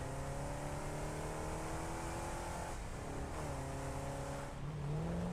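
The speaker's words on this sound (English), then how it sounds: "I like how the sound was still going as though the Explorer was revving." The Explorer vehicle in the factory-building game Satisfactory holds a steady, loud engine drone that keeps running as if revving, with its pitch dipping and rising briefly a few times.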